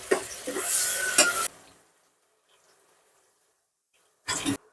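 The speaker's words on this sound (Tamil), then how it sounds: "நம்ம தோட்டத்தில் விளைஞ்ச ஃப்ரெஷ்ஷான கறிவேப்பிலை தலையை உள்ளே போட்டாச்சு, நல்லா வதக்கி விட்டாச்சு" Fresh curry leaves and tomatoes are stirred and sautéed in a biryani pot during village home cooking, a loud sizzling scrape for over a second, then quiet, then another short burst of stirring.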